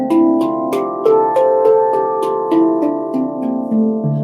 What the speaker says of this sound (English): So up and down the scale, which on our D Kurd sounds like this.